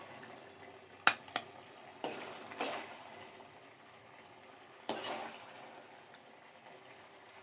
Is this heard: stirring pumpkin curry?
yes